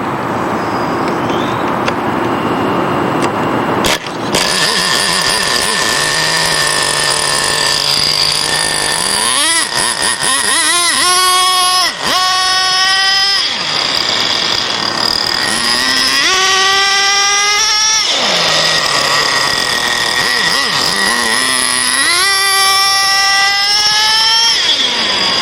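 A nitro-powered radio-controlled race car engine screams loudly at high pitch, repeatedly revving up in rising sweeps and dropping back to idle in a steady, continuous run with no talking.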